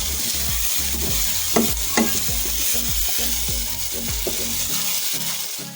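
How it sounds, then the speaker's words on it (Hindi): Chopped tomatoes and green chilies stirred into garlic-ginger paste frying for dhaba-style chana dal, with a steady close sizzle, repeated scraping strokes and occasional clacks, easing off near the end. "यहाँ पर जो हमने टमाटर और हरी मिर्चें काटी थी वो इसके अंदर ऐड करेंगे, और अगेन इसे अच्छी तरीके से मिक्स करेंगे"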